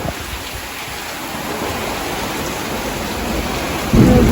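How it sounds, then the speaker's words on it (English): Thunderstorm at sea around a yacht, with heavy rain and wind roaring as a loud steady broadband rush, and a rumble of thunder swelling in near the end. "There's another one of those horrible storms with lightning and thunder, a lot of wind."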